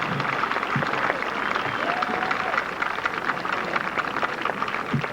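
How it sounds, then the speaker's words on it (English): Audience applause for a special education teaching assistant at a 2000 high school graduation ceremony in Tempe, a steady dense wash of clapping filling the hall throughout, loud and continuous. "Would you please join me in applauding Suzanne Goldstein"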